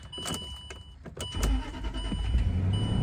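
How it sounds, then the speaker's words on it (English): A 2006 Land Rover LR3 cold-starts. A few clicks and a short crank are followed by the engine catching into a steady, deep idle rumble heard up close. "This is a cold start."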